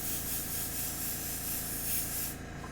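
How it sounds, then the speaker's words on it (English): An airbrush sprays paint onto Warcry tabletop terrain in a steady, close, hissing rush of air that holds constant throughout before easing slightly at the end. "I'm just going to probably go ahead and keep spraying until I run out of paint"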